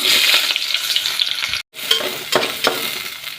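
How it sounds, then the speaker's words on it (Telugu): Onions frying in hot oil in a pan give a loud, continuous sizzle, broken once by a brief cut-out, with a few stirring scrapes in the later part. "ఇప్పుడు మనం ఫ్రైడ్ ఆనియన్స్ అయితే ఫ్రై చేసుకుందాం"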